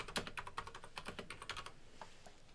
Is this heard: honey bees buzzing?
no